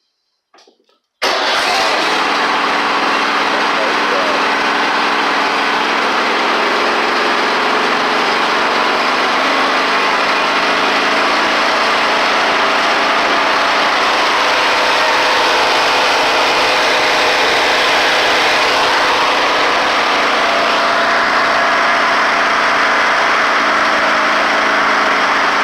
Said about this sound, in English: This one's a good old made in the USA engine right here